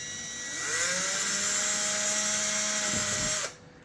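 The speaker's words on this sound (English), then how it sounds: "I'm going to take this 5/64 drill bit, and I'm just going to drill a little hole right there in the center." A 5/64 drill bit bores a small hole in a Rav4 raptor light fitting, a close high-pitched cordless drill whine that spins up, holds steady for about three seconds, then cuts off abruptly.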